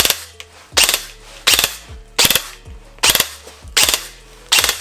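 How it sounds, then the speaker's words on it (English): G&G ARP9 airsoft gun firing repeatedly in short rapid bursts, seven sharp rattling volleys at a regular pace, each a tight cluster of cracking shots with mechanical clatter, loud and close, no voices. "put this into full auto, and then you'll have 3-round bursts"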